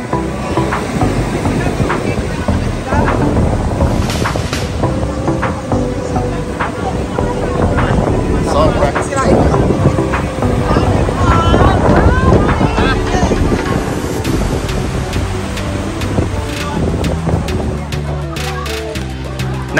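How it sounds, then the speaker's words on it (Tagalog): Sea waves roll in on a beach at San Juan, La Union, with strong wind buffeting the microphone in a loud continuous roar, while people talk over it. "Hindi tayo narinig sa ingay ng dagat."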